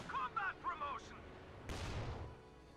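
Gunfire in the Company of Heroes 2 video game: a single sharp blast with a rumbling decay, following brief voices from the game.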